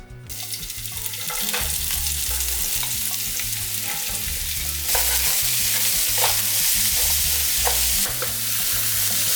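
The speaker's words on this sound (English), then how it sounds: "We're gonna toss in our onions and our carrots" Chopped onions and carrots fry in hot oil in a pan, giving a loud, close, steady sizzle broken by repeated scraping and stirring strokes. No voices are heard.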